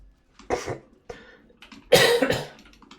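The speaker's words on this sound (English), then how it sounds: "Sorry if you hear me coughing" Someone coughs several times in short, harsh bursts with quiet gaps between, close to the listener, the last cough the loudest.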